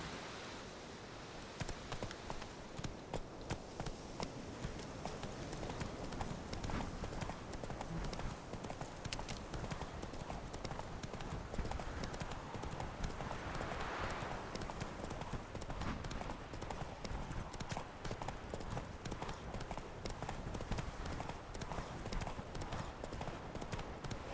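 Horse hooves gallop in The Witcher 3, a steady, dense clip-clop rhythm that runs throughout at close range over a constant wash of outdoor wind and ambience, with no talk.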